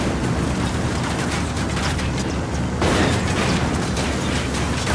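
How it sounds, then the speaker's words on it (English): Sustained gunfire and explosions in the video game Ghost Recon Wildlands, a dense continuous barrage of bursts and booms with a sharper surge of blasts partway through, loud and close throughout. "I'm opening fire on these shitheads."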